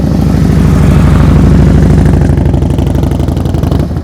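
A motorcycle engine during slow-speed riding practice, a loud close steady low rumble that holds near idle and then eases slightly, with no talk over it.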